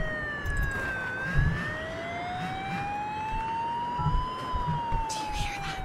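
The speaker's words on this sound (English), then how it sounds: "Sounds like the police are here." A wailing police siren in the horror video game Crimson Snow rises and falls over a steady background, heard at moderate distance with faint thumps and clatter beneath it.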